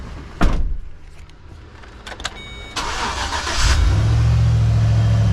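A 2013 Chevy Express van with the 4.8 engine, spark plugs and wires just replaced, cranks and fires up after a door thud, then settles into a loud, steady idle that carries to the end.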